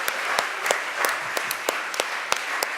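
Indoor audience applause at a Brooklyn circus sideshow performance, a steady moderate clapping that holds evenly throughout without any speech over it.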